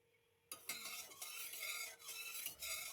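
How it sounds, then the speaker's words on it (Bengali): Mustard oil heats in a kadai, hissing and sizzling loudly from a sudden start, with scraping stirring strokes and utensil clinks close by, no voices. "এবার কড়াই গরম করে হাফ কাপের মতো সর্ষের তেল দিলাম।"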